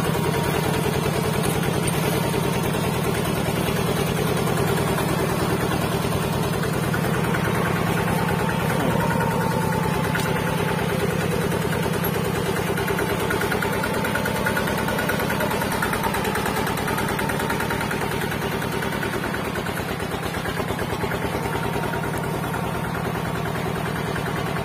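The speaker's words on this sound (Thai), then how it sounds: "ลองฟังเสียงเครื่องดูฮะ" Engine of a modified walking tractor converted to a ride-on machine, running with the throttle locked at a steady low setting, a continuous close mechanical drone with a faint knocking rhythm throughout.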